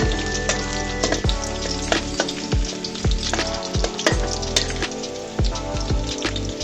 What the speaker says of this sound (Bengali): দেখতেই পাচ্ছেন বন্ধুরা, পেঁয়াজটা কিন্তু লাল লাল করে ভাজা হয়ে যাচ্ছে।